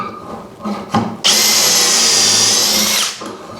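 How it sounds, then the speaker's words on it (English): Power drill boring dowel holes in wood through a Dowelmax jig, a loud sustained high whine running steadily for nearly two seconds after a few faint handling knocks, then winding down. "we're going to be drilling 1 and 2"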